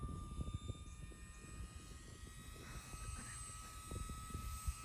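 A Dynam PT-17 radio-controlled biplane model flies, its small propeller motor giving a faint, distant buzz that rises and falls slightly under outdoor wind and handling noise.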